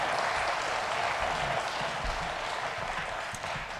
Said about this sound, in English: Give a round of applause for Tony.